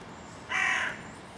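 A crow caws once, clear but moderately distant, over a steady outdoor background hiss during flint knapping outdoors.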